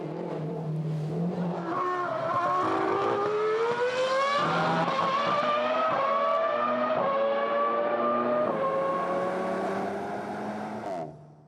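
A Renault Sport car engine accelerates hard through several gears, each rising rev sweep cut off by a quick upshift, loud and sustained before fading out at the end.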